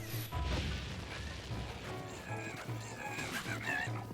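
A horse in The Legend of Zelda video game whinnies amid quiet game sounds, thuds and clattering effects, with someone talking faintly over it.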